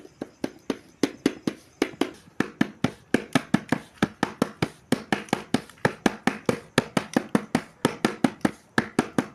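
Jowar dough ball patted flat into a roti by hand, a long steady run of sharp slapping pats close by, quick and evenly spaced, made for baking over a wood-fired stove.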